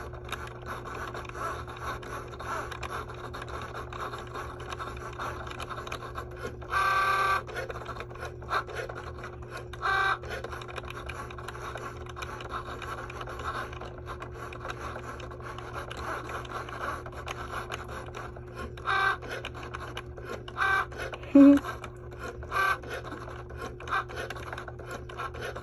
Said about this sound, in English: I think now it's cutting out the word thank you.